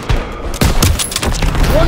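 Heavy gunfire and booming blasts in a Call of Duty WWII battle in 1944 France, loud close shots and bursts in quick succession, with shouted voices mixed in.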